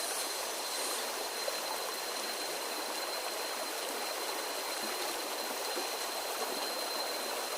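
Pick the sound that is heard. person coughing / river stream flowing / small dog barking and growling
river stream flowing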